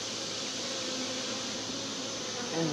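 A dense, steady hum of many honey bees buzzing at a crowded beehive during a spring honey harvest, continuous and close throughout.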